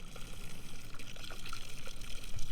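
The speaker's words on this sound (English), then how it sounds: "You're getting the treated chilled water directly out of your live well pumped into your tournament bag" Treated, chilled water is pumped from a boat's iKon L2 livewell system into a fishing tournament weigh bag, making a steady close-up rushing, pouring hiss without a break.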